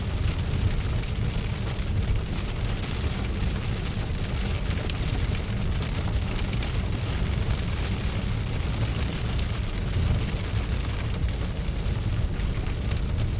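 Heavy rain during a storm chase in western South Dakota, a dense steady roar of drops drumming on a vehicle, loud and unbroken throughout with no voices.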